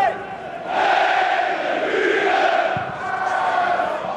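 A large football stadium crowd of about 6,100 spectators at a third-division match, FC Carl Zeiss Jena against Bayern München II, makes a loud, continuous roar that swells after the first second and holds steady.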